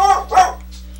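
A dog barks in a video game, about two sharp barks heard close and fairly loud over a steady low game hum, with no talking.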